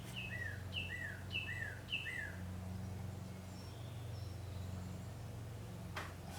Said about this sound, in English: That's a happy bird.